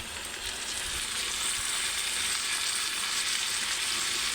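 Diced ridge gourd tumbles into a pan of frying potatoes, bringing a steady, loud, close sizzle that holds evenly throughout with no talking.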